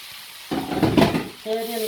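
Bulgur is stirred and fried in a pan, a short burst of sizzling and scraping that swells and fades, with a voice talking briefly over it.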